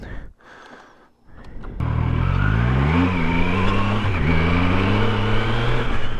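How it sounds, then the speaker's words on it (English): Triumph Tiger Sport 660 motorcycle ridden along a bumpy dirt road with washboard, ruts and rocks; after a short quiet stretch the engine picks up and holds a steady, close drone with small pitch wavers over rough road noise. "let me show you how it is to just ride this bike on some dirt roads"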